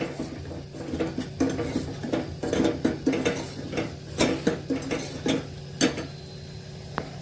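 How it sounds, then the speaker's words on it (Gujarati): Sambhar being stirred in a pot after adding sambhar masala, chili and salt: repeated scraping and clinking of a spoon against metal in an irregular rhythm over a low steady hum, close and moderately loud. "સંભાર મસાલો સ્વાદ અનુસાર મીઠું એ એડ કરી સરસ હલાવી લઈશું"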